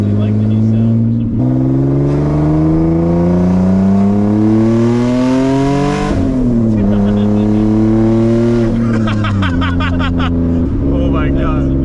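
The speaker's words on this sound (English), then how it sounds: "Boosted VQs just have such like an angry sound." A single-turbo Nissan 350z with a VQ engine pulls hard through the gears: loud, rising engine tones climb steadily, drop at each shift and climb again, with turbo whoosh and hiss on deceleration near the end, and a voice talking underneath.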